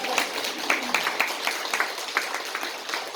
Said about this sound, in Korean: 박수 한번 보냅시다.